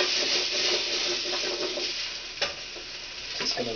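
Chopped cabbage soup vegetables sauté in a hot pan, giving a steady close sizzle with occasional scraping stirs and light clinks, no voices.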